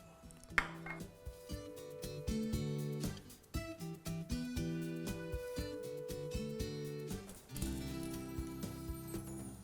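Two onions being coarsely chopped with a knife in a kitchen while making kadhai paneer, giving a steady run of close, crisp knife taps on a board with some pan and utensil clatter and a faint background hum.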